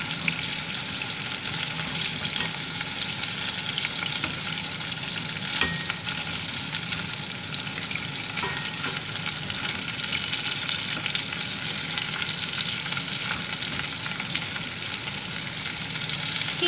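Beef ribs frying in a pan give a continuous, even sizzle at moderate level, with faint stirring scrapes and no talking.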